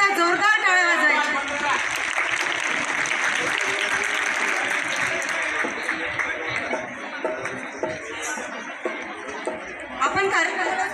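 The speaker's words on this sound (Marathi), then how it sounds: "हे जे स्पर्धक आहे यांच्यासाठी एकदा जोरदार टाळ्या वाजवायच्या" Audience applause for contestants at a song-singing competition during a Ganesh festival, a sustained burst of clapping with chatter and laughter that fades down midway and swells again near the end.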